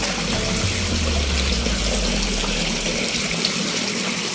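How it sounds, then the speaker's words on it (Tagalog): Water pouring steadily into a 3-metre round tilapia pond as it is refilled after draining, a continuous close rushing wash with no talk over it. "kaka-drain lang po namin ng tubig at ongoing po ang pagre-refill po ng tubig namin"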